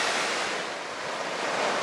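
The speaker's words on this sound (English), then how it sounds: "It's a little windy, a little south wind, but nothing horrible." Steady wind gusting across a beach on a day with a light south breeze, mixed with the broad hiss of surf, continuous and fairly loud with no voices.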